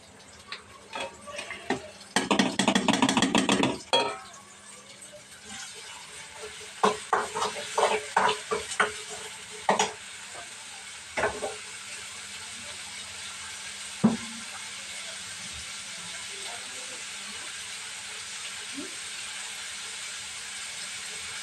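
Salted bitter gourd pieces fry in a pan, opening with a loud rush of sizzling and clattering, then settling into scattered spoon taps and light clicks over a soft, continuous frying hiss.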